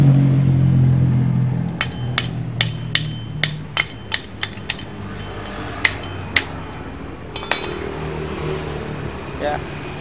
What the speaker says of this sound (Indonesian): Ini kita palu aja ke sana, sahabat.